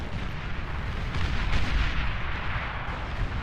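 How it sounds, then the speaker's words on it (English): A big video-game explosion rumbles in a continuous, heavy low roar with dense crackling blasts, loud and sustained throughout without any voices. "That's going to be a good explosion"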